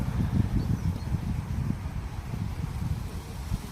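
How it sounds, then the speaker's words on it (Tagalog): Strong wind by a lake buffets the microphone with a continuous low roar and gusty rumble, no voices. "Lakas ng hangin."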